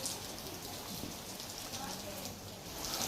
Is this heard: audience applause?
no